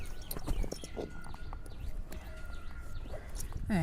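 A horse being saddled shifts its feet, with hooves clip-clopping in an uneven rhythm close by over steady outdoor background noise.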